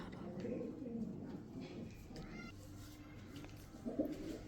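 Domestic pigeons kept at home cooing softly nearby, low murmuring calls running through with a louder coo near the end, under faint background voices.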